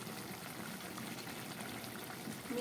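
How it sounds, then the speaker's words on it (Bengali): Brinjal curry bubbling at a boil in a pot, a close, steady, quiet burble of popping bubbles with no voices. "বেগুনের সবজিটা ফুটে উঠেছে"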